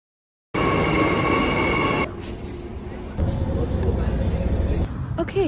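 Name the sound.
train ride, Australia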